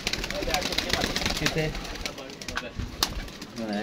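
Pigeons in a loft cooing, with repeated throaty warbling coos over a busy mix of wing flutters and clatter, close up, while someone talks.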